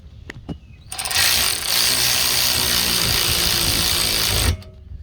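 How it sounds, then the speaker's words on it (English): A power ratchet runs the 15 mm hub bolts tight on a Ford Edge AWD during an axle seal job, one loud, steady whirring run of about three and a half seconds, close by, framed by a few clicks before and after. "Put our hub back in and tightening up our 15s."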